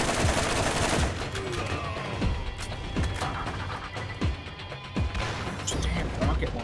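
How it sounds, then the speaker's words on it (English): Rocket launcher fire during a Borderlands firefight, repeated sharp blasts and gunfire cracks at moderate level, spaced irregularly amid continuous combat noise. "Damn, rocket launchers."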